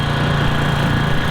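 A lawn mower runs steadily while scalping a lawn down low, a loud, constant engine drone close by with no pauses or talking.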